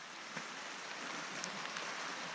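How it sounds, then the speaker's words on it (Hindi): Rain falls steadily on a mountain village, a faint, even hiss of drops with a few soft, distinct taps and no voices. "बारिश हो रही है"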